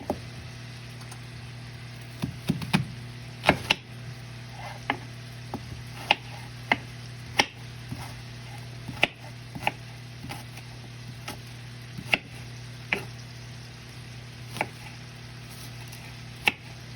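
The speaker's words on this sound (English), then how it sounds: "So what I want to do now is slice my onion, my 2 small onions." A knife slicing two small onions on a board, producing crisp single chops in an uneven but steady rhythm, close and fairly quiet over a low steady hum.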